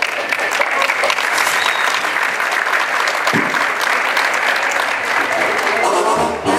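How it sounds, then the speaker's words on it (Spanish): A crowd at an ejido centenary celebration applauds loudly and steadily after a singer performs his own corrido, many hands clapping together before it tapers off at the end. "Démosle un fuerte aplauso."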